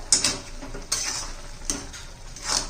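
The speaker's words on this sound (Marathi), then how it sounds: "व्यवस्थित मिक्स करूया आपण आता" A spoon scrapes and clinks against a metal pan while stirring a drumstick-leaf vegetable dish, giving a few distinct strokes with softer rubbing between them, close up.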